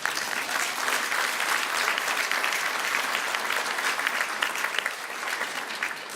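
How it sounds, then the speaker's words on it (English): A graduation audience applauds in a dense, continuous wash of clapping that holds steady for several seconds without letting up. "So give yourselves a round of applause for being here today."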